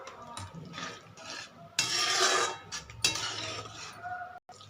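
Paneer tikka masala being stirred in a pan after hot ghee is poured over, with soft scraping and clinking of a spoon against metal in short uneven strokes, fairly quiet and close.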